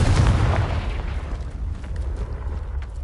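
Confringo explosion spell in Hogwarts Legacy, a loud booming blast with a rumbling tail that slowly fades over a few seconds.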